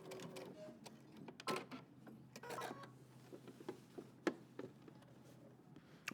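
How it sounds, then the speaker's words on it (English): A sewing machine runs in short, uneven bursts of rapid stitching through the center front of a denim jacket, with pauses and small clicks between runs, fairly quiet and close. "And now we're going to sew through the center front."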